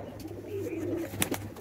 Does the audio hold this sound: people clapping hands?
no